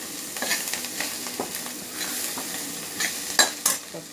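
Spinach and mixed greens sautéing in a pan for an egg dosa, a soft steady sizzle with light stirring scrapes recurring every half second or so, fairly close and quiet, with no voices.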